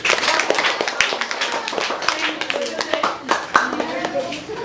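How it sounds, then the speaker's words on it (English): An elementary school audience claps together at a ceremony, uneven bursts of hand claps with some children's voices mixed in. "Can we give each other a reverberating round of applause again?"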